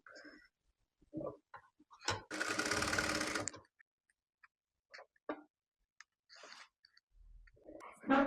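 Sewing machine stitching fabric for a baby girl's skirt, a single dense whirring run of about a second and a half amid scattered handling clicks and rustles of cloth, close and fairly quiet.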